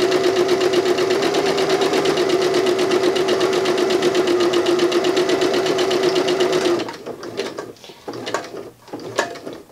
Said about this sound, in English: I'm just going to sew along one edge so that they become one complete piece